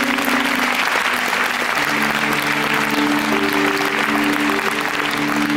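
Steady, dense applause from a large concert audience at a show, loud and continuous throughout, with a faint tonal hum underneath.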